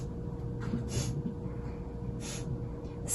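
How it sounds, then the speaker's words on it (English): A few quick sniffs through the nose as a diaphragmatic breathing check, soft and close, with short bursts of airy breath sound in a quiet room. "you can do a quick sniff test"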